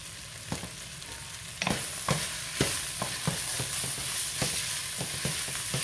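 Bell peppers and onions frying in a pan for steak fajitas, a soft continuous sizzle punctuated by spatula taps and scrapes at an uneven pace, close up and without speech.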